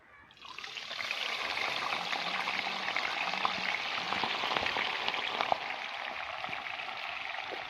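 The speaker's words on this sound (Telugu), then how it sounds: "మిగతావి కూడా ఇలా ఫ్రై చేసుకోవాలి" Ingredients for dal deep frying in hot oil, a steady dense sizzle with fine crackling that starts abruptly and holds loud and continuous throughout, no voices.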